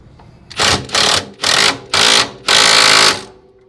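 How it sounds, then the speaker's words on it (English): Five loud, close bursts from an impact wrench tightening a Honda axle nut, each a short rattling hammer, the last burst held longest. "we're going to run it with the impact the other side and get it good and tight."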